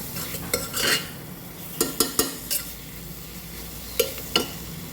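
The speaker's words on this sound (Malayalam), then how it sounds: "ഇളക്കി കൊടുക്കാം" Spoon stirring masala powder into a beef and Chinese potato (koorka) curry in a pan, giving scattered scraping clinks and soft sizzling, close and fairly quiet with no talking.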